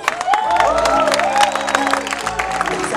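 A crowd claps at a live slam performance at the Soko Festival 2020, with brisk applause running throughout while the performer speaks over it.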